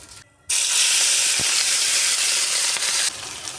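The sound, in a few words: puti fish frying in hot oil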